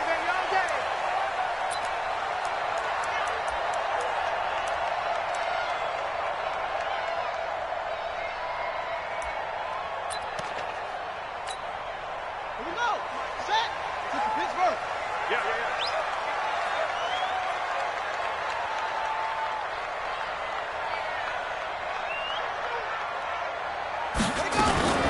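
A stadium crowd in a PS4 football video game roars as a steady, dense wash of cheering for a Dallas Cowboys versus Washington Redskins match, with a commentator talking over it and a few thumps.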